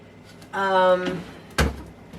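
A refrigerator's cheese drawer slides open with a short scraping rasp, then a sharper knock or bump follows a moment later, close and fairly loud in a quiet kitchen.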